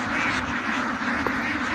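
Ducks at a duck farm quacking together in a dense, continuous flock chatter, steady and fairly loud with no clear gaps and no talking.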